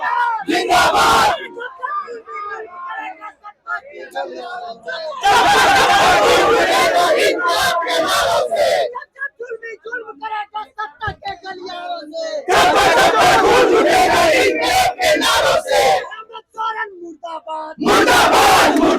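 Thousands of job candidates massed in Jaipal Singh Stadium in Ranchi chant slogans in loud, rhythmic bursts. The roaring unison swells alternate with quieter gaps of scattered shouting and crowd noise, close and overwhelming.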